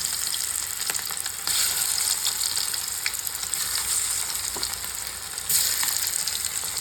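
Marinated fish pieces fry in hot oil in a home kitchen, giving a steady, close, bright sizzle and crackle that runs throughout with small bursts, no talking.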